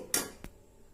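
A metal spoon clinks against a pan while sugar powder is mixed into besan for laddu, off the stove: one sharp bright clink followed by a second softer tap, close and alone.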